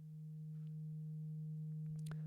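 A VCV Rack voltage-controlled oscillator sends a steady, faint sine tone through a mixer to speakers. It hums alone and continuously, with a brief clicky blip near the end.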